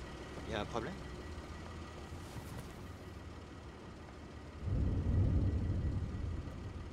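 A low engine rumble idles quietly in the background while someone speaks briefly near the start, then the rumble swells louder and steadier toward the end.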